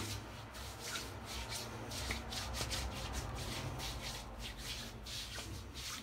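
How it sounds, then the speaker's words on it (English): Hands rub leftover shaving lather or balm over the skin of the arms, a soft continuous close-up rubbing and swishing with faint friction texture throughout and no talk. "And just rub the excess on the arms."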